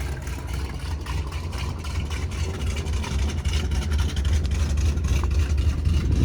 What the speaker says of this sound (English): It's still a bit cold, but the idle is way better than yesterday.